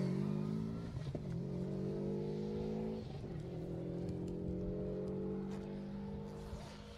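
Rally car number 46 on the Cheviot Stages asphalt rally, its engine note rising and falling as it drives past at a distance, with changing revs throughout.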